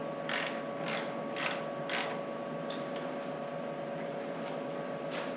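A ratchet tightens a fairing bracket on a 2017 Harley-Davidson Street Glide during a hard lowers install, giving four quick clicking bursts in the first two seconds, then a few softer clicks, over a steady background hum.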